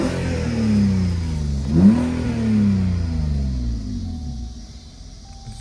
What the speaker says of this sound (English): Very smooth inline 6 motor, producing a very raspy, beautiful exhaust note